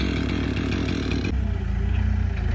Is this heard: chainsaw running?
yes